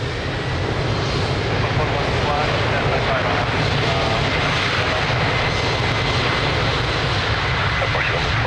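Airliner taking off from runway 02 at Lisbon Airport, its engines a loud, steady broadband roar that fills the whole stretch without pause.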